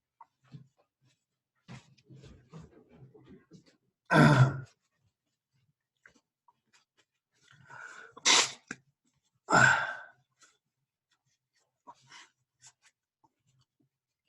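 A few sharp, sudden sneezes spaced apart in a quiet room, with soft breathing and small rustles between them.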